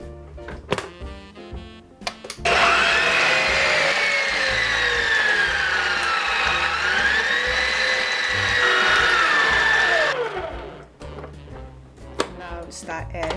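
A stand mixer whirs steadily for about eight seconds, its motor pitch dipping and rising while it beats stollen dough with whipped whole egg, with clicks and handling noises before and after.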